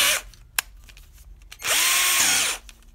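A cordless battery-powered drill clicks once, then whirs up sharply, runs for about a second with a high rising whine and spins down, close and loud.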